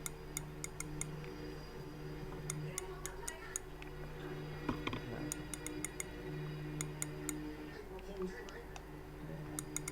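Rapid mechanical clicking in brief bursts from a Ryobi fishing reel's drag ratcheting, close and crisp over a steady low hum with faint voices nearby.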